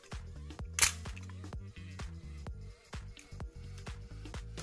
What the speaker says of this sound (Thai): ต่อมาสปีดชัตเตอร์8